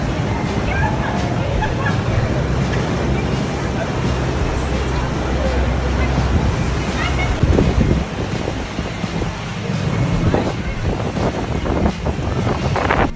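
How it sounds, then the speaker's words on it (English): Waves slap against the rock walls of a sea cave along the Algarve coast near Lagos while a boat rocks, a loud rough wash of surf and wind buffeting with excited voices mixed in. "the boat's kind of just rocking like crazy because the waves are just hitting the walls"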